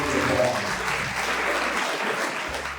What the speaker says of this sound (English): let's give all of our students one more clap